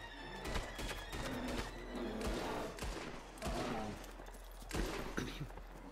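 Several gunshots go off in the Red Dead Redemption 2 game world, sharp cracks spaced a second or so apart, layered over horse whinnies, hoofbeats and a busy outdoor background.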